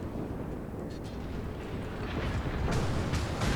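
A World of Warships cruiser fires high-explosive shells. The result is a dense, rumbling wash of booming gunfire and roar that swells louder toward the end.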